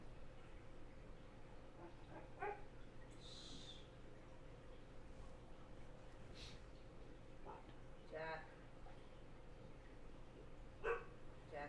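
A dog barks a few times in the background of a home reef-tank setting, faint and distant short yaps scattered over a steady hum with no talk.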